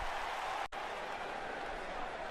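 A sold-out arena crowd at a Raw show in Lafayette, Louisiana, in the wrestling game WWE 2K19, making a steady, dense roar that cuts out for an instant before carrying on unchanged.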